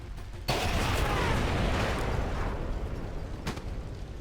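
A grenade explodes in the stealth-action game Splinter Cell: Conviction, a sudden loud blast followed by a long rumbling roar that slowly fades, with a second sharp bang near the end.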